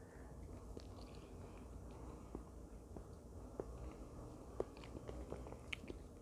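Homemade mocha-like dark chocolate mousse is eaten close to the mic, giving faint, soft, moist chewing and lip smacks with occasional sharper clicks over a constant low background hum.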